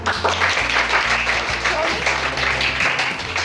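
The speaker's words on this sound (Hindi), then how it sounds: "Please give a round of applause for him." A school class claps for a student candidate named Abdullah Beg during a welcome-back party game, steady scattered clapping over a low humming drone and background noise throughout.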